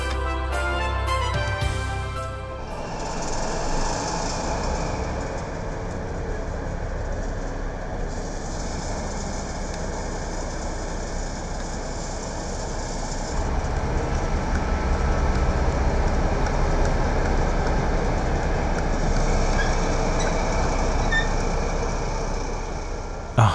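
A Märklin model Class 218 diesel locomotive rolls out through an opening gate, giving a steady close rumbling motor drone with a soft high hiss that persists without a break and swells slightly toward the end, no voices present.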